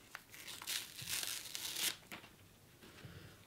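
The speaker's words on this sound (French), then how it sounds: "Donc, on va enlever le petit stickers." A small sticker peeled off a parcel gives close, soft crinkling and tearing with a few light crackles, quiet and brief, with no talking.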